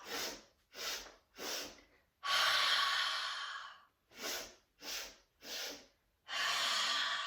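During a strong yoga flow, nasal breathing comes close and clear: three short sniffing inhales, one long exhale, then four more short inhales and another long out-breath.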